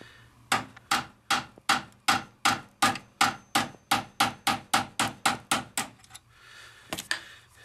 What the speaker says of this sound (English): Using a roll pin punch, I'm going to drive these roll pins out of the adjusting rod.